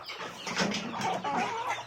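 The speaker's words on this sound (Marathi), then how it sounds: "आमच्या फॉर्ममध्ये दोनच कोंबडे आहेत" A large rooster on a farm clucks in a run of close, throaty calls, rising and falling in short bursts without pause.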